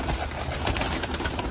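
Pigeons coo softly outdoors near the sea, a low murmuring call repeating under steady broadband wind or ambient noise, with no talking over it.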